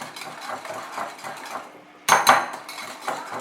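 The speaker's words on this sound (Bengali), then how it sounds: "ভালো করে এটাকে মিশিয়ে নিতে হবে যাতে কোনো লাম্প না থাকে" A utensil clinks and scrapes against a bowl while dosa batter is stirred with added water, steady clatter with a louder burst of clinks partway through.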